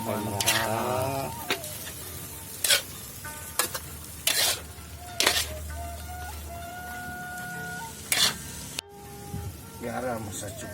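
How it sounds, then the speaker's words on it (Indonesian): Vegetables stirred in a frying pan, with a steady sizzle under repeated sharp scrapes and clanks of the utensil against the pan; a person talks between the strokes. "Sayurannya terus diaduk-aduk tentunya juga."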